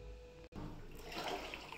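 Water sloshing and splashing inside a washing machine tub during a hygiene cleaning cycle, a steady close rush with a brief dropout before the churning rises.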